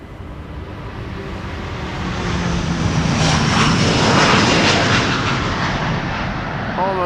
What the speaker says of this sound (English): A330 Neo. Brand new, first flight January this year.